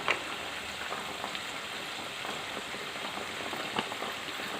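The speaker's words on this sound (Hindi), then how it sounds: "मैंने कढ़ाई ले ली है और इसके अंदर अब मैं डाल रही हूँ जी ऑयल" Hot oil in a kadai sizzles steadily during preparation of masala bhindi, a continuous close hiss with faint crackles and no talking.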